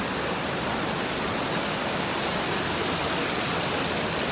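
A waterfall at Khao Yai roars in a steady, unbroken rush of broadband water noise, constant and fairly loud throughout.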